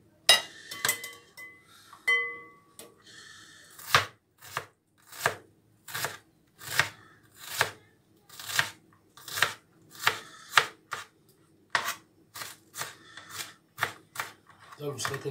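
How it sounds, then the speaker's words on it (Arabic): A knife chops an onion on a board in quick, even strokes, a steady run of crisp, close thuds. A voice speaks briefly at the start. "دابا البصله كنديرها تقطع القيوق"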